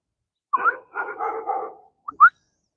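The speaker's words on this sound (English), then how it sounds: "What's going on with the dog?" A dog near a porch barks and yips in a few short bursts with a brief whimpering edge, loud and close against an otherwise silent background.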